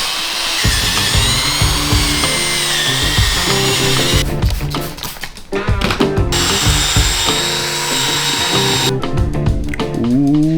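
A power sander whirs steadily against a BMW car headlight, a continuous grinding drone with brief changes in pitch as pressure shifts, close and loud throughout.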